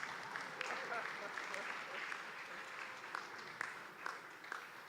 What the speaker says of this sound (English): I think it's something that is worth clapping, please.